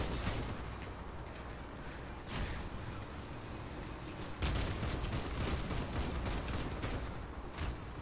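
Cannon fire in the vehicle combat game Crossout: dense, continuous bursts of heavy gunfire with sharp onsets around 2.3 and 4.4 seconds, steady and loud throughout with no talk.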